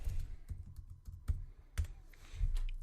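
Rapid, uneven keystrokes on a computer keyboard while retyping a label's text in Interface Builder: close, crisp clicks in short bursts with brief pauses, no voices.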